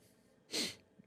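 A single short sneeze in the middle of a quiet moment, a brief sharp burst of breathy noise close to the microphone, followed by a faint breath.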